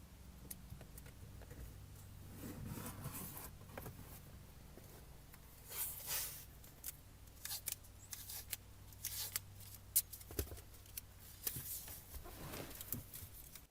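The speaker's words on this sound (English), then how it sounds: "Now I'll put blue painter's tape across the dash, segmenting it into sections where I want to test each product." Blue painter's tape is pulled and laid across a dirty car dashboard, heard as soft scattered peeling rasps and light taps, close and quiet, with a few sharper tears toward the end.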